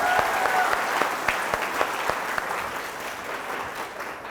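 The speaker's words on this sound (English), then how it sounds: "Let's all give him a big round of applause." Students and guests at a school programme applaud a volunteer, a steady wash of clapping with a few sharp, distinct claps standing out, gradually fading over a few seconds.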